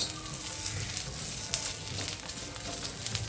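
Green chillies for mirchi pickle roast in a pan over a medium flame, giving a steady, close sizzling crackle with scattered pops and faint stirring.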